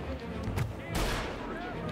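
A few sharp gunshot bursts in Mafia: Definitive Edition, loud and close, with other game noise and some talk underneath.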